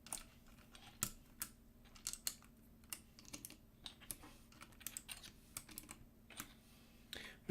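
Typing on an NJPD 75 mechanical keyboard fitted with box white switches and a steel plate, with a steady run of crisp, close keystrokes in irregular bursts.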